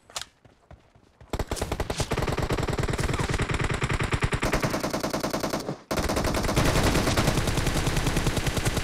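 Rapid automatic gunfire from M416 and M762 rifles in PUBG Mobile's 4v4 Domination mode on the Town map rattles in loud, sustained bursts after a few opening shots, with a brief gap midway.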